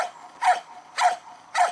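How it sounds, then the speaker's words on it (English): Dogs bark three times at an even, unhurried pace, each bark short and fairly close, reacting to a wheeled RC rock-crawler truck. "Sorry for the dogs going nuts, but they absolutely hate anything with wheels on it"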